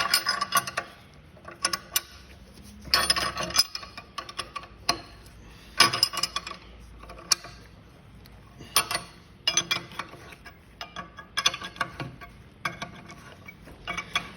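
A 3/4 inch wrench loosens the belt tension on a Rayco RG80/RG55 stump grinder, giving sharp, irregular metallic clicks and clanks with quiet gaps between them.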